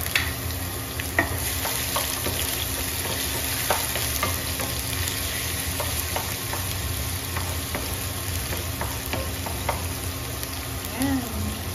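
Garlic sizzles and crackles steadily in a hot pan while being fried, with occasional stirring clinks over the continuous frying hiss.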